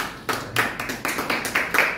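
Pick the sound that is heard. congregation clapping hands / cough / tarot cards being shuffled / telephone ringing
congregation clapping hands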